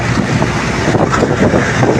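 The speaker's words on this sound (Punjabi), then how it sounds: "ਪਾਣੀ ਦਾ ਵਹਾਅ ਵੇਖੋ ਪਾਣੀ ਬਹੁਤ ਤੇਜ਼ ਆ ਵੇਖੋ ਪਾਣੀ ਬਹੁਤ ਤੇਜ਼ ਜਾਣ ਰਿਹਾ ਜੀ" Fast-flowing floodwater in a flooded village rushes past in a steady, dense roar, with wind buffeting the microphone throughout and no voices.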